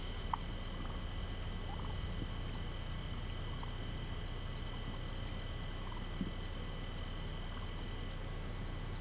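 Wild turkeys in Texas gobble faintly and briefly at a distance over a steady background hum, with no one speaking.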